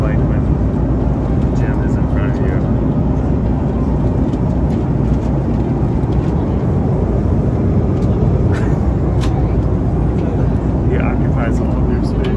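Steady, loud airliner cabin drone on an overnight flight from Honolulu to New York's JFK, a dense continuous engine roar filling the whole stretch with faint scattered clicks and rustles over it.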